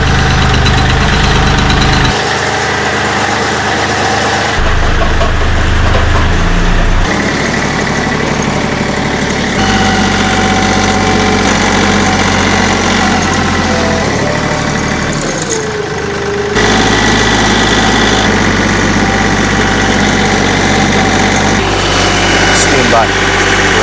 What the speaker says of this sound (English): let's get this tractor going.